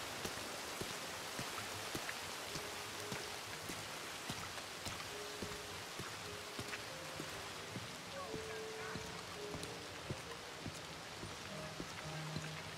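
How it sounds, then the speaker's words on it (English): Steady, dense rain falls through a night thunderstorm in the video game Red Dead Redemption 2, a continuous hiss that runs the whole time with faint tonal sounds drifting underneath. "Rain got me out of sorts."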